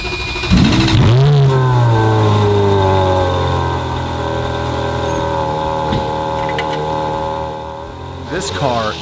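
A Ferrari Scuderia supercar engine fires up loudly and revs up sharply, then settles into a steady, rumbling idle that fills the clip, with a brief blip of revs near the end.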